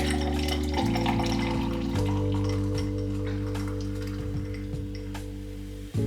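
Ginger beer pours into a cocktail mixer that already holds a little ice, for a non-alcoholic Moscow Mule. The liquid splashes steadily and close by for about six seconds beneath a low, constant hum, with faint fizzing and clinking scattered throughout.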